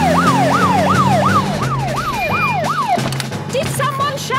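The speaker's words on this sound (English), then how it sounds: "To the police car!" A cartoon police car siren from Peppa Pig wails in loud, regular rising-and-falling sweeps for about three seconds, then gives way to other cartoon sound effects.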